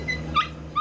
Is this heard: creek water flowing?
no